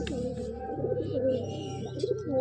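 A pigeon coos softly several times in quick succession, close by and fairly quiet, with faint chirps and low background murmur around it.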